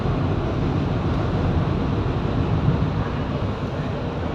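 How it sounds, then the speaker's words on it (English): Driverless, computer-controlled electric train carrying passengers through Kuala Lumpur, with a steady, even rumble of the moving carriage throughout and no talking. "We are in electric train here."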